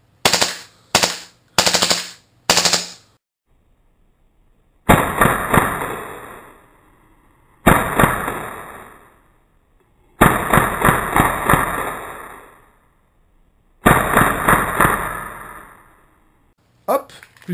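Tokyo Marui Hi-Capa 4.3 (Xtreme 45) airsoft pistol firing: a few quick single shots, then four loud full-auto bursts of rapid rattling pops separated by short pauses, with a last brief shot at the end.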